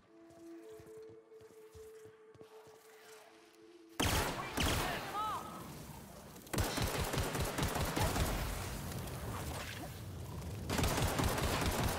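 Rapid gunfire from ranger weapons in The Outer Worlds, quiet at first and then a loud, dense stretch of repeated shots with sharp bursts that keep going to the end, with some speech underneath.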